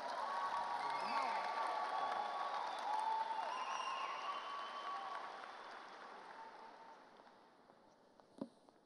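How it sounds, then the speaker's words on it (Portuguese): An audience at a confessional school event applauds warmly, with sustained clapping and a few cheers that gradually fade toward quiet, ending with a single sharp knock. "vamos receber com uma salva de palmas o nosso querido Rubens Cartacho"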